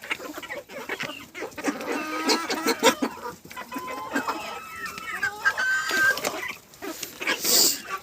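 Chickens and young roosters cluck and chatter continuously at close range, with a rooster's call rising near the end, no talking.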